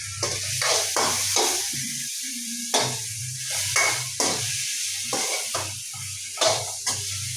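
Tomatoes sizzle in hot oil in a pan while being stirred for an onion chutney, with steady frying hiss broken by repeated scraping stir strokes, close and clear with no talk.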